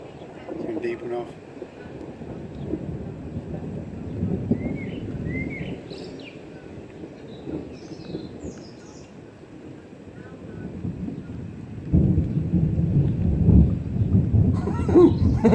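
Thunder rolling during a thunderstorm, deep rumbles that swell and fade over several seconds, with a heavier burst near the end; birds chirp faintly in the background.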